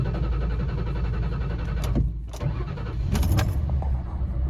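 A Ford Crown Victoria engine rumbles steadily with a brief dip and catch, then runs on at a loud, even idle close by.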